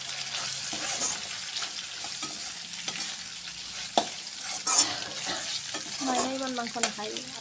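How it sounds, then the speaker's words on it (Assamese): Meat fries in a karahi with a steady sizzle, punctuated by irregular metal scrapes and knocks of stirring, heard close up. "মাংসখিনি আন এটা কেৰাহীত ভাজি লৈ"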